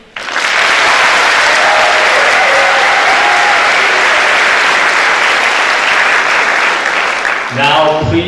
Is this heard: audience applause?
yes